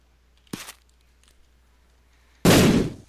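A bomb explodes in the video game The Binding of Isaac, a sharp short blast early on followed by a louder, fuller boom near the end.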